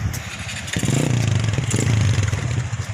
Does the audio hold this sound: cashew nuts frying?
no